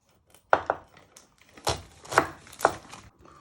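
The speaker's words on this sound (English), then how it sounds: "Then you chop the other end off." A kitchen knife chops through the end of an onion on a cutting board, several sharp, close knocks in an uneven rhythm, with no talk.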